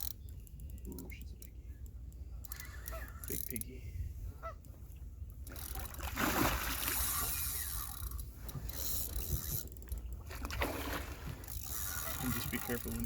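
Fishing reel drag clicking as a carp pulls line from a boat on Presqu'ile Bay, a steady ratcheting buzz running beneath excited talk and the noise of wind and water.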